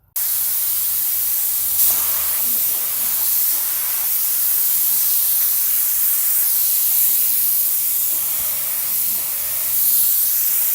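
A spray gun lays a coat of paint onto car wheel rims in a steady, close, continuous hiss that runs almost unbroken, with only slight dips in level and no talking.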